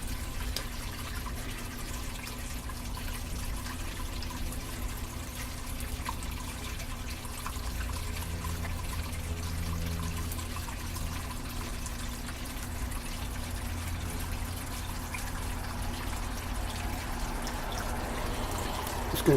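Water sloshes and trickles continuously in a gold pan during prospecting, a steady low wash that carries on for the whole stretch.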